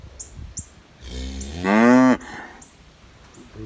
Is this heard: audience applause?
no